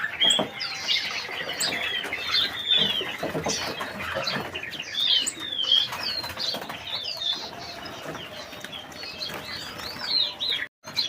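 Many caged finches, including green munias, fill a bird shop with dense overlapping chirps, tweets and fluttering wingbeats, close and steady throughout with no talking.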